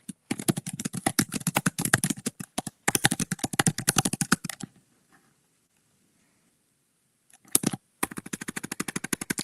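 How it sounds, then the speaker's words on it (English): Rapid clattering keystrokes on a computer keyboard, close and fairly loud in dense bursts, with a pause of near silence in the middle before the typing resumes. "You're going to hear me type."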